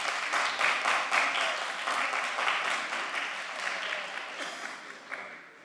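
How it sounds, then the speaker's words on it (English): Sustained applause from an audience at a municipal commission meeting, honoring a student short film. Many hands clap steadily and fairly close, then fade slightly toward the end. "Round of applause."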